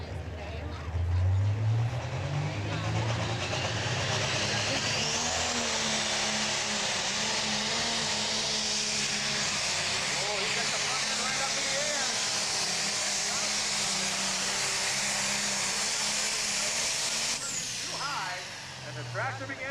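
A pro stock tractor roars through a tractor pull run on the track at an ATPA event in Mercer, Pennsylvania, its engine a loud, sustained, rising roar lasting nearly the whole stretch, with an announcer talking over it.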